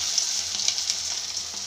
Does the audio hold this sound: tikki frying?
yes